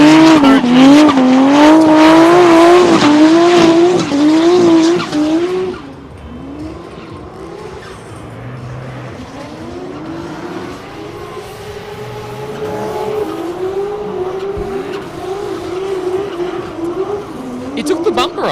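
A drift car with a Nissan RB engine howls at high revs near and loud at a drift championship qualifying round, tires squealing, then fades to a more distant engine drone under crowd noise and commentary.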